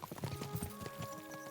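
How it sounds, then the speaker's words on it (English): Horse hooves clip-clop at a walking pace as a rider travels on horseback in Kingdom Come: Deliverance II, several steady, close, distinct hoof strikes with a low tonal hum from the game underneath. "We're on horseback."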